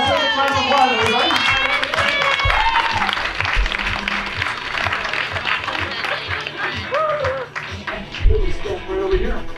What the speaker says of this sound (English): Let's take a round of applause, everybody.